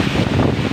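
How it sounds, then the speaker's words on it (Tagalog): Busay Falls in Sorsogon pours down in a continuous, loud roar of crashing water mixed with gusting wind and spray, a dense unbroken wash of noise. "yung bagsak ng tubig may kasamang hangin"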